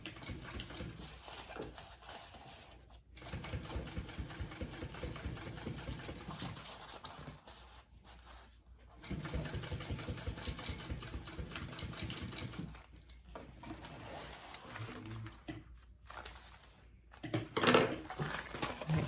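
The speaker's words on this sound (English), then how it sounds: "I'm going to top stitch this seam here." A sewing machine runs in bursts as it top-stitches a seam on a sling backpack, a close, steady mechanical whir with rapid needle chatter that stops briefly between runs of stitching.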